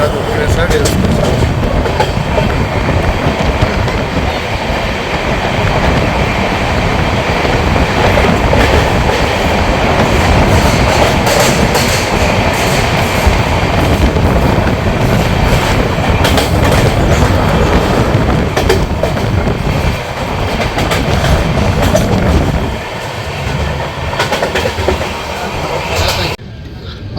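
An LHB-coach Tebhaga Express near Dakshineswar gives a continuous loud rumble of rolling wheels and rattling carriages, heard close from on board, with rhythmic clatter and a brief dip in intensity near the end.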